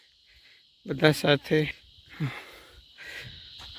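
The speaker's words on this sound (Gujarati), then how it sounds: "તમરા બોલી રહ્યા છે, તમને અવાજ પણ સંભળાતો હશે." Crickets chirp in a forest in Gujarat's Dang district at night, a steady high shrill drone running throughout beneath a man's brief speech.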